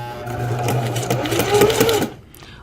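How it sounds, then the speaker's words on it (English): A sewing machine stitches along a marked straight line, its needle running in a fast, even chatter over a low motor hum for about two seconds before stopping, close and fairly loud. "I'm going to start sewing."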